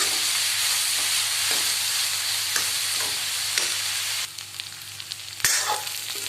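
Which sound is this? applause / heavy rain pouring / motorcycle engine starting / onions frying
onions frying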